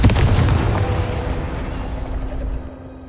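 Confringo blasting spell explosion in the video game Hogwarts Legacy, a single loud, deep boom at the start followed by a rumbling decay lasting a few seconds, with no talk over it.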